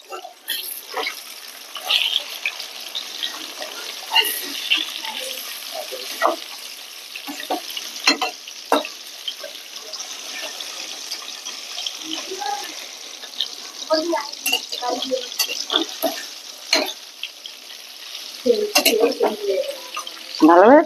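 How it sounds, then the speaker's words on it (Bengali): Pieces of hilsa fish fry in oil in a pan, a steady close sizzle broken by scrapes and clinks as the pieces are turned, while someone talks over it now and then. "এবারে মাছের পেটিগুলো আমি উল্টিয়ে নেবো।"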